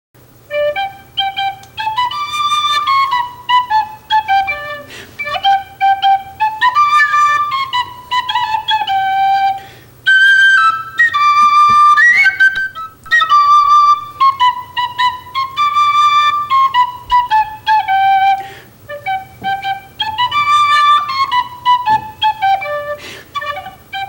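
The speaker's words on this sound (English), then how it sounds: "And that's our song today on the penny whistle." A penny whistle plays a lively Irish-flavored tune, clear and close, with bright repeated melodic phrases broken by short breaths, alone with no talking.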